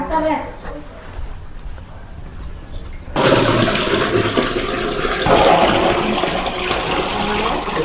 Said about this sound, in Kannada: ಇದನ್ನ ತೊಗೊಂಡೀಗ ಅಂಡೆ ಹುಯ್ತಾ ಇದ್ದೀವಿ ನೀರು ಸ್ನಾನ ಮಾಡೋಕ್ಕೆ